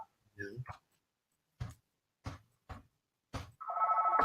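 A telephone rings in an indoor talk setting, a steady warbling tone that starts near the end after a few short spoken phrases.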